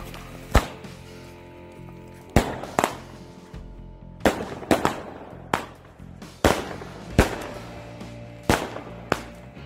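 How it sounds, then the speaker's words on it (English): Fireworks explode outside a house in a rapid series of sharp, loud bangs, about a dozen blasts in irregular bursts with crackling decay between them and no talk. "People launch fireworks outside of his house."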